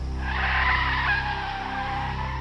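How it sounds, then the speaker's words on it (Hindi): A fast-moving car braking hard, its tires skidding and squealing in one loud, continuous screech that lasts about two seconds before easing off. "उन्होंने जोर से ब्रेक लगाया"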